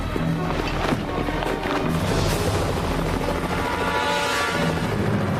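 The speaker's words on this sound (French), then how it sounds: "L'hélicoptère va arriver!" Loud, steady rotor roar of a helicopter filling the whole clip, a dense rumbling thrum with no pauses.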